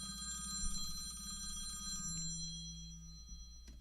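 A phone rings with a repeating electronic trill, close and fairly loud, pulsing rapidly for about two seconds before shifting to a steadier tone that cuts off, with no talking over it.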